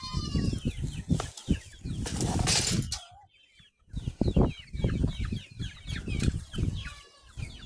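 Village chickens cluck and flap their wings as they rush about expecting food, a busy close flurry of wingbeats and clucks with a brief lull midway.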